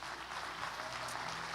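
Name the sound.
church congregation applause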